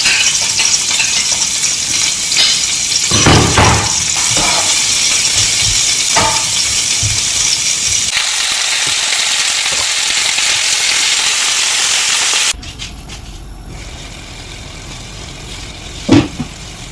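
Garlic frying in a pan for Filipino chicken adobo, a loud steady hiss and sizzle with a few utensil clinks, ending in a quieter stretch broken by a short knock.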